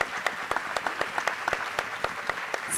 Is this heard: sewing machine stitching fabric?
no